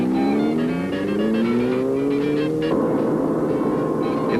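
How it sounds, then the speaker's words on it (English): A 1973 Opel Manta Luxus brakes hard in a panic stop from 70 mph, the engine tone sliding steadily down before a rough, broadband scrub of tires takes over toward the end, loud and close throughout. "In this 70-mile-an-hour panic stop,"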